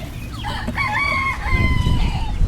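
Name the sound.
chickens clucking and crowing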